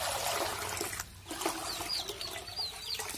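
Water from mugs splashes and trickles into the water container of a pigeon coop in a steady, close gush. A brief lull comes midway, and faint bird chirps sound in the background.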